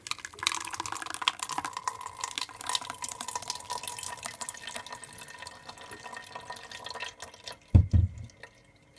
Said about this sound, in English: I'm just gonna pour all the juice in there.